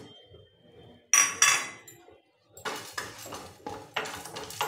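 Cumin seeds, fennel and black pepper are stirred in a hot pan over low flame, producing intermittent close metallic clinks and scrapes of a spoon against the pan, separated by quiet gaps.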